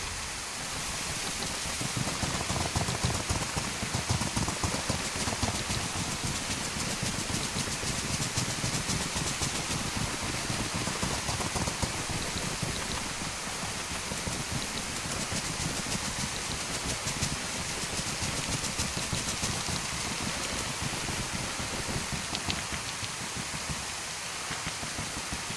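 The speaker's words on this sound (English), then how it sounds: "it is raining like a motherfucker" Heavy rain pours steadily in the survival game DayZ, a dense, constant hiss of downpour filling the whole scene from start to finish with no voices.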